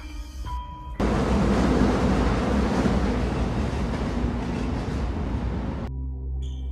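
A train runs on railway tracks near Kalighat as a story sound effect. A steady, loud rolling rumble fills the middle of the clip and cuts off sharply at the end, with no voices.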